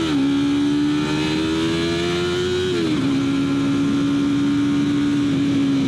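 A small R3 motorcycle engine droning steadily while riding, loud and close, its pitch holding level and then dipping briefly partway through before settling again, with no voices.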